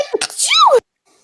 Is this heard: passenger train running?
no